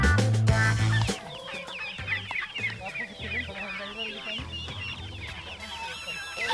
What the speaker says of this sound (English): let us feed all our chickens